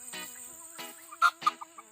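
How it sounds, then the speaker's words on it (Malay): Ten-week-old Lohmann Brown chickens cluck in a few short, separate bursts, with two louder clucks near the middle and softer ones trailing off, close by and with no talking. "Ayam ni berumur 10 minggu."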